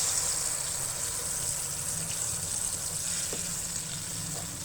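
Tamarind paste added to a pan of fried cumin and asafoetida for imli chutney, a steady, soft sizzle and fry hiss running throughout with a few faint stirring clicks.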